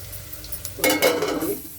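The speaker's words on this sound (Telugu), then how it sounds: "కొంచెం లైట్గా ధనియాల పొడి వేసుకొని కలుపుకొని మూత పెట్టుకోవాలి." A spoon stirs Telangana-style mutton curry after coriander powder is added, a short burst of wet scraping and sizzle rising midway over a low background hum.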